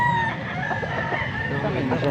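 A rooster crows close by, one drawn-out call, with faint voices in the background.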